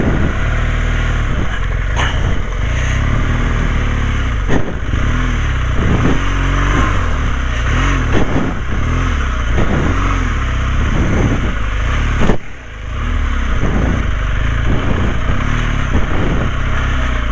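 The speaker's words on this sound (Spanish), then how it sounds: "La moto casi no está frenando." A motorcycle engine revs and rumbles continuously up close, throttle rising and falling with clattering bumps, riding over a rough dirt trail, its brakes barely working.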